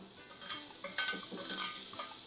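Tuna fish searing in a hot pan as a marinade with black pepper is poured over it, a steady loud sizzle and crackle throughout with no talking.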